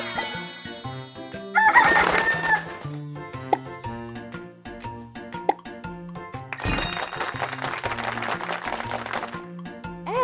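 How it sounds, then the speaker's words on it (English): A rooster crowing in a farm-animal vocabulary piece for toddlers, the cock-a-doodle-doo heard within bright, busy music rather than on its own. "It's a rooster."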